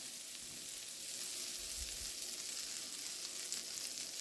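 Four tablespoons of unsalted butter melt in a hot pan for a garlic butter lemon salmon sauce, giving a steady, fairly quiet sizzle and crackle that runs unbroken throughout with no talking.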